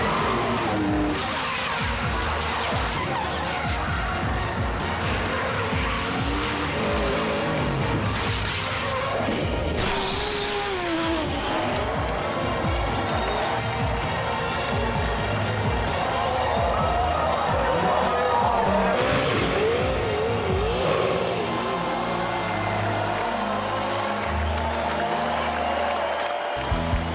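Turbocharged drift cars at Pukekohe Park Raceway roar and squeal their tyres through a corner during a national drifting championship round. Engine noise and tyre screech run loud and continuous under excited commentary and crowd noise.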